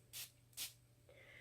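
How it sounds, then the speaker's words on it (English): Two short, sharp bursts of a small spray bottle misting, spaced about half a second apart, quiet and close. "Spray it one more time."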